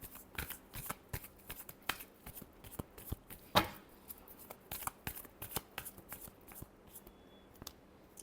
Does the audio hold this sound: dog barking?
no